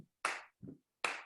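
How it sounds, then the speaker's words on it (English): A church congregation claps hands in sparse, distinct claps, two sharp claps spaced apart with a softer low thump between, fairly quiet in a hushed room. "And then we clap."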